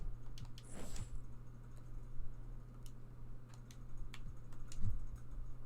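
Light clicking and tapping on a computer keyboard while managing an NBA 2K21 MyNBA franchise, soft irregular keystrokes over a steady low electrical hum.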